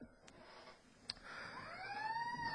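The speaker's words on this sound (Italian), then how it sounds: "c'è il suono della sirena" A siren wails at a distance, its tone sweeping slowly upward through a steady background hum, with a couple of brief clicks near the start.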